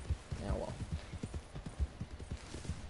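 Horse hooves clip-clopping in the Red Dead Online video game, a steady run of soft, evenly spaced hoofbeats at moderate distance with no talk over them.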